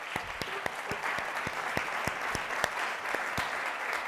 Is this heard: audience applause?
yes